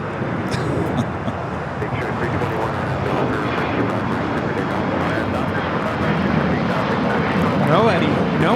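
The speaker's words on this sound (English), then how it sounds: "This is United Express 5336 taking off to Salt Lake City, Utah on the E175." A United Express Embraer E175 jet takes off at LAX with a loud, steady engine roar, wind buffeting and a rising whine, while a person talks over it.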